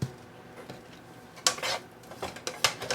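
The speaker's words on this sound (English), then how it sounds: "Kind of stir that around." Sausage with sprinkled seasoning is stirred in a pan, giving close, irregular metallic scrapes and clinks from a utensil, with a few sharper knocks near the end.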